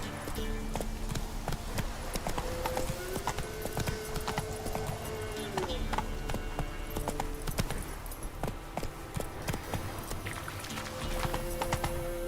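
A horse galloping in The Witcher 3: Wild Hunt on PS5, with continuous rhythmic clip-clop hoofbeats under in-game ambience and a faint snort partway through.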